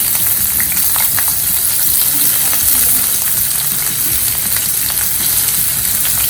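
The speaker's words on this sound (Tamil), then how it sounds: "எண்ணெய் காய்ஞ்சதுக்கப்புறம் வெங்காயத்தை போடுவோம்." Onions going into hot oil in a pan for a pepper chicken base: a loud, steady, close sizzle that holds unbroken throughout, with faint scattered clicks and no voices.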